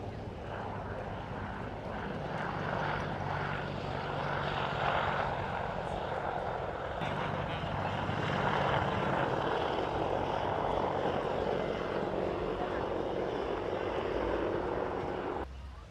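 Loud, steady thrumming roar of a helicopter nearby at the Miami Beach Air & Sea Show, droning continuously with a broad rushing wash of sound and faint voices beneath.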